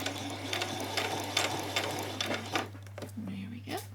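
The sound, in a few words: sewing machine stitching a continuous placket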